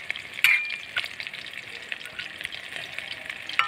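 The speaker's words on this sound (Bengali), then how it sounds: "এই হালকা করে আমি এই জল দিয়ে দিচ্ছি, বেশি জল দেবো না।" A splash of water hits a frying pointed gourd curry with fennel, raising a loud hissing sizzle that continues steadily with stirring scrapes and small pops throughout.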